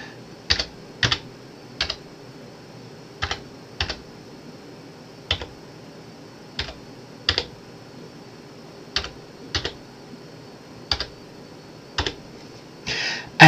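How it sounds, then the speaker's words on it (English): Someone types a password on a computer keyboard, giving about a dozen sharp, close key clicks spaced irregularly over a quiet background, with no talking. "So I'm just going to type in the password for my wireless network."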